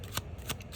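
Tarot cards shuffled by hand in two quick, close riffling bursts, each a short crisp flutter with a brief gap between.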